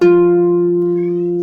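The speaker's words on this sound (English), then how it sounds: "my cat's coming in again" A pet cat gives one long, steady, loud meow, sustained and close up with no talking over it.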